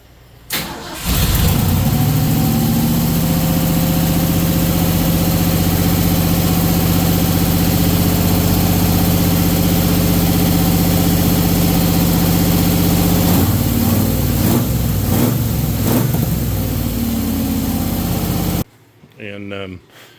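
A 1934 coupe's engine cranks and catches with a loud roar, settles into a steady, throbbing idle for many seconds, is briefly revved unevenly, then cuts off abruptly into near silence.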